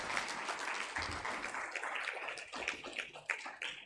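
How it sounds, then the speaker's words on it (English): An audience at a digital transformation festival conference applauds for the keynote speaker, a moderately quiet, uneven burst of clapping with a few sharper individual claps near the end. "let's put our hands together for our keynote speaker, Professor Walyamureba."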